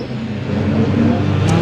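Vulcan race car engine at Brands Hatch circuit, a loud, steady low roar that swells slightly as it draws nearer across the short stretch.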